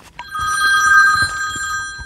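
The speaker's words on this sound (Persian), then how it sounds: "زنگ نخوره این گوشی من" A mobile phone rings inside an agricultural drone factory, its electronic tone steady and fairly loud for about two seconds with a short blip at the start and faint background knocks underneath.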